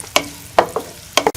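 Finely chopped onions frying in ghee in a pan for an egg gravy give a low sizzle, broken by four or five sharp stirring clacks of a spoon against the pan. The sounds are close and there is no talk.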